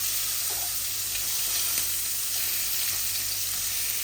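A fish head fries in oil with spices, giving a steady, close sizzling hiss with faint crackles and no talking.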